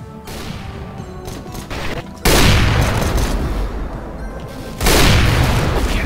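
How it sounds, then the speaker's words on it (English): Grenade blasts and gunfire in the video game CS:GO: scattered shots first, then two loud booming explosions that each roll off into a long rumbling decay. "Throwing a grenade."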